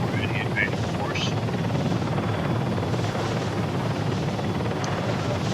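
A helicopter flies over Tanoa in a video game, a loud continuous rotor and engine roar holding steady throughout, with a few faint higher chirps near the start.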